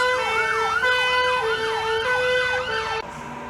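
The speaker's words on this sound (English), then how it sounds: "Over there making a lot of noise, Mini Countryman fire truck and Metro ambulance." Loud wailing emergency sirens from a Mini Countryman fire truck and a Metro ambulance at a car show sweep up and down continuously, several tones overlapping, close by, cutting off abruptly near the end.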